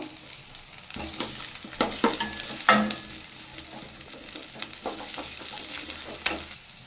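Two medium onions frying in a pan for mutton chops, a steady close sizzle with scraping stir strokes and spatula clinks throughout, no voices.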